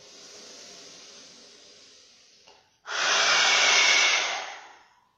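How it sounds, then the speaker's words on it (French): A deep inhalation during an airway-clearance breathing exercise: a soft, airy breath draws in, pauses, then a strong, loud rushing intake lasts over a second before fading, with no talk. "Inspire. Et encore, inspire. Encore."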